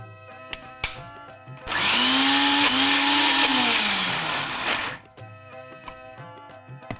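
A mixer grinder crushing soaked chana dal with a little water whirs loudly for about three seconds, its motor whine rising and dipping, set between quieter moments with small clicks and handling knocks.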